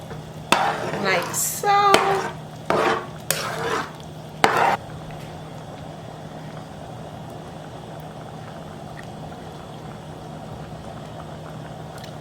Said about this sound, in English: So now we're going to want to give this a good mix